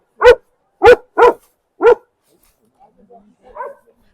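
Dogs bark at each other in a forest along a trekking route in Parvati Valley: four sharp, loud barks in quick succession, followed by fainter, softer yips and whines in quiet surroundings.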